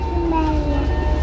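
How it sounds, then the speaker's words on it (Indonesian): A Sembrani passenger train on the Surabaya to Jakarta route rolls along with a steady, loud rumble and a faint tonal whine over it, heard briefly from on board. "Kereta sembrani."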